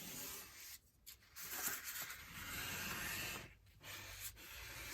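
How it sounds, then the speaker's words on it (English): A credit card spreads and scrapes a thin coat across a surface in close, dry rasping strokes, broken by two brief pauses between passes. "I'm just going to use like a credit card type thing. And I'm just scraping it all over it really thin."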